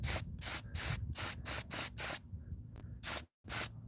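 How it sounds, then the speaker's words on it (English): A spray gun fires a quick series of short hissing bursts to test its spray pattern, about nine evenly paced blasts with brief pauses between them, close and loud. "the first thing I wanna do before I spray is we wanna check our spray pattern"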